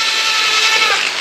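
A power sanding machine working on old wooden beams inside a stone house, a loud steady high-pitched whine held for just over a second with no speech.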